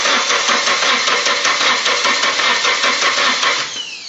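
A Nissan 240SX barn find cranks loudly on its starter, giving a steady rapid churning for about four seconds with no catch, then slowing and fading at the end.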